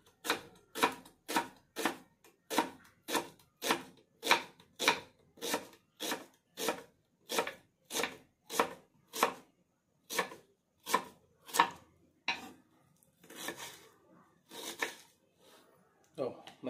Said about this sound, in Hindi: मग में रखा हुआ सारा प्याज काट करके इसको अच्छे से धो करके इसको स्लाइस करके एक जगह कटोरे में